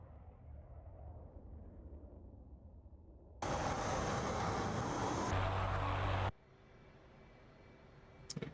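A jet aircraft in a flight video game spools up for takeoff: a quiet engine hum rises to a loud, broad roar lasting about three seconds, then cuts back to a lower steady drone.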